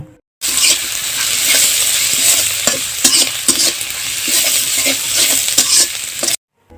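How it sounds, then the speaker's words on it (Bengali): Onion, garlic and green chili frying in a pan while being stirred, a loud steady sizzle with repeated scraping strokes of the spoon, clearly up close and without talk. "এখন পেঁয়াজ, মরিচ, রসুনগুলো কিছুক্ষণ ভালোভাবে নেড়ে নিব।"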